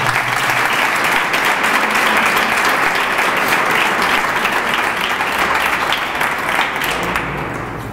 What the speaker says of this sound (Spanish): desde aquí le mandamos un fuerte aplauso para que ella lo reciba donde está